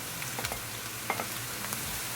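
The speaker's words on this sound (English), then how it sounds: "We're going to cook our onion after cooking for 2 minutes" Onion fries in a pan with a quiet, steady sizzle, broken by a few soft clicks and scrapes of stirring, close and faint with no voices.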